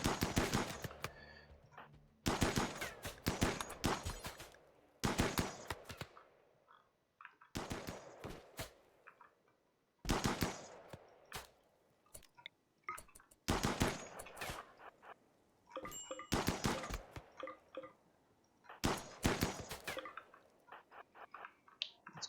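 Bursts of automatic gunfire from the colony game RimWorld, loud and sharp, coming in repeated volleys of rapid shots separated by brief pauses of near silence.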